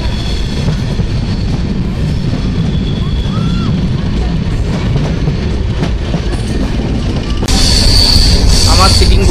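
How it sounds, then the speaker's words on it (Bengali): The Capital Express pulling into Alipurduar Junction, heard from inside the train as a loud continuous rumble and clatter, with a sharper, brighter burst of wheel and track noise near the end. "দেখা যাক 4:43-এ আলিপুরদুয়ার জংশনে ঢুকতে পারে কিনা ট্রেনটা।"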